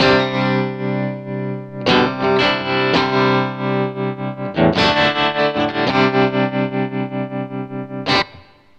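Electric guitar run through an Electro-Harmonix Wiggler pedal in its ham mode, playing loud sustained chords with a wobbling, distorted modulated tone, several re-struck chords and a final strum, with no talking.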